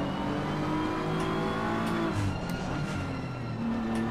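A race car engine in Assetto Corsa Competizione holds a steady, loud drone with rising revs throughout, close and continuous with no voice over it.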